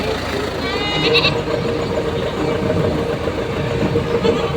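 Goats bleating at a livestock market in Padre Garcia, Batangas, a few short cries rising above steady crowd chatter and a low engine rumble, with people talking throughout.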